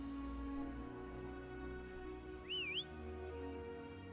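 A brief, faint warbling whistle rises and falls once in the Wuthering Waves video game, heard over a quiet hum of background game ambience.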